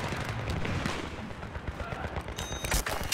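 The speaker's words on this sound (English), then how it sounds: "He just shot at me." Gunfire in a Battlefield 3 multiplayer match on the Noshahr Canals map, a dense burst of shots and rumbling impacts that grows louder toward the end, with no talking.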